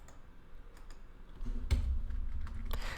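A terminal command is typed on a computer keyboard, with scattered light keystroke clicks and a slightly louder tap near the end, close and unaccompanied by speech.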